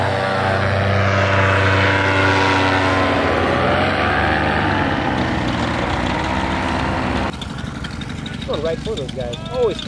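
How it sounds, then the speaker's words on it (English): A paramotor flies in for a spot landing at a Korean air show, its propeller engine droning loud and close then shifting pitch as it passes and cuts off, with people talking over it. "Paramotor spot landing."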